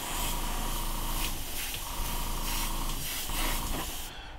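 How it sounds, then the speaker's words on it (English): Steady, close hiss of an aerosol spraying brass lacquer onto a Star-Lord helmet kit part, with a fan blowing air nearby, holding almost unbroken for about four seconds before cutting off. "I'm gonna get going and just spray down some brass"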